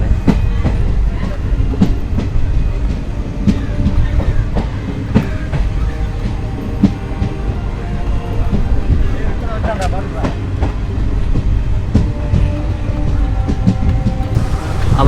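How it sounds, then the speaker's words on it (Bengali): A passenger train pulls into Pamban railway station near Rameswaram, its wheels giving a steady, rhythmic clickety-clack over the rails with rumbling carriage noise throughout, loud and close. "ট্রেন পৌঁছে গেল পাম্বান রেলওয়ে স্টেশনে।"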